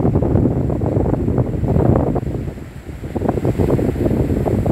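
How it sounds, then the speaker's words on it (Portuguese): Ocean waves surging on a northeastern Brazilian shore in rainy weather, a continuous loud rush of surf mixed with heavy wind buffeting the microphone, steady throughout. "Escute um pouco aí o barulho das ondas."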